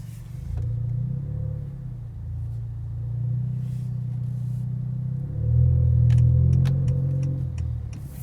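A 2019 Honda Accord Sport 1.5T hums along from the cabin as it drives, a steady low engine drone that swells briefly under acceleration and is joined by a few light clicks near the end.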